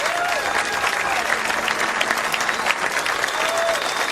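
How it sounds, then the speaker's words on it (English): A crowd gives a sustained ovation at a professional bowling championship in an arena, with dense, steady clapping and some cheering carrying on loudly throughout, and a voice talking faintly beneath it. "deserves this ovation he's getting from the crowd here at Riviera"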